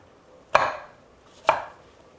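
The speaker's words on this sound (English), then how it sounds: "So we're just going to chop up our apple." A knife chops through an apple onto a cutting board in two separate, crisp, close strikes about a second apart, with quiet between them.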